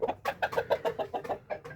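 A long-boned show rooster, a four-time winner, gives a rapid run of rhythmic clucks and calls, fairly quiet and close, with no talking over it.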